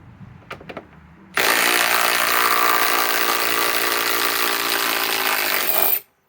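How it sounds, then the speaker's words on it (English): A Metabo HPT WH18DC triple hammer impact wrench on a MultiVolt 5 Ah battery runs continuously for about five seconds, loudly and up close, as it breaks loose lug bolts, after a few brief clicks and handling knocks. "This is the triple hammer bolt with a multi-volt 5-amp hour battery"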